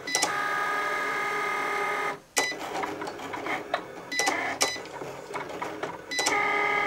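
A Cricut Explore cutting machine runs alone at close range, cutting an imported SVG design with a steady mechanical whir, broken by a brief pause and by sharp repeated clicks and shifts as the carriage moves.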